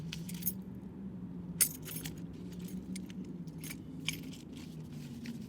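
Keys clipped to the outside of an Ulanzi BP09 camera backpack jangle in repeated bright metallic bursts over a steady low background rumble, close and moderately loud, with no talking.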